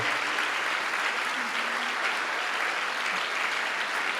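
Steady, fairly distant applause from a church congregation continues evenly throughout, with a faint voice underneath.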